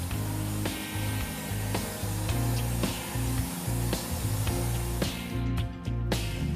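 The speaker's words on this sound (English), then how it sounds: "Vacuum all buffing dust and steel shavings from the tire." Vacuum cleaner pulling buffing dust and steel shavings off a tire during a radial tire patch repair, a steady loud droning whine with periodic clatters and knocks as the nozzle moves over the rubber, no talking.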